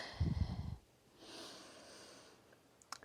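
A slow breath out during a core exercise warm-up, a brief rough low exhale followed by a soft airy breath, faint and close with no talk.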